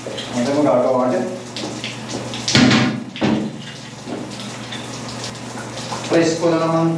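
Shower water running in a steady broadband hiss for several seconds, with a brief louder gush and a couple of knocks midway, while someone talks intermittently over it.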